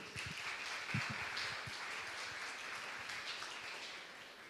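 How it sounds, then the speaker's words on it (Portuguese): An audience in a Brazilian hall applauds steadily as a psychiatrist doctor is welcomed onto the stage, a sustained wash of clapping with a few sharper claps near the start. "As palmas, por gentileza."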